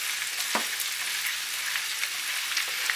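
Pork and vegetables sizzle steadily in hot oil in a stir-fry pan, a dense continuous frying hiss with a brief utensil stir near the start.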